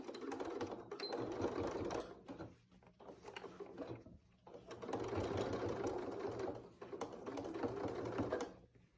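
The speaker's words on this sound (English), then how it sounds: "So we will go ahead and start to sew this down." A sewing machine stitches down the elastic edge of a girl's dress in two long, steady runs, with a brief pause between them. The motor hums close and clear with no talking.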